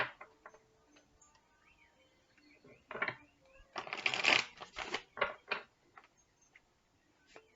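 Guidance cards being shuffled, a quiet run of ticking card flicks that swells into a denser riffling burst, then scattered taps, close and soft.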